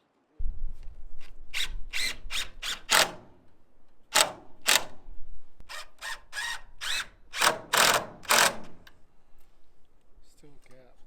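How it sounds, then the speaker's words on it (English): A power drill drives screws into 2x4 boards for a DIY livestock shelter on a small homestead farm: short whirring bursts come in two close, fairly loud clusters separated by brief pauses. "Here I'm just getting some screws started before we get over there."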